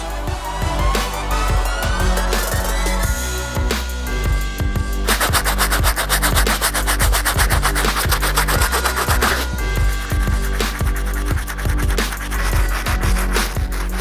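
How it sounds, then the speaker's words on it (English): A stiff bristle brush scrubs the soles of Jordan 14 sneakers in quick, continuous back-and-forth strokes, a loud, close, rasping rub that never lets up. "the first brush we're going to be using to get started with this deep cleaning process is a stiff bristle brush to clean up the soles"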